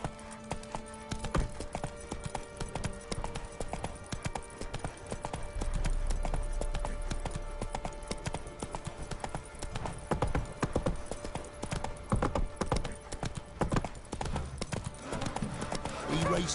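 Rhythmic clip-clop of the horse Roach galloping in The Witcher 3, hoofbeats pounding steadily throughout at moderate volume over ambient game sound.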